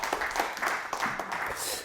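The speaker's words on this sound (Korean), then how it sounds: "맞으신 분 박수 주세요." Audience applause at a Korean lecture, a dense steady patter of many hands clapping at moderate volume, sustained for a couple of seconds.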